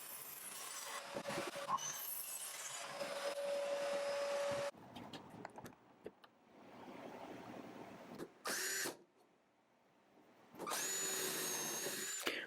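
A miter saw cuts 2x4 construction timber into supports. It gives a loud, sustained whining cut for about four and a half seconds, then quieter workshop noise and two more short bursts of machine sound.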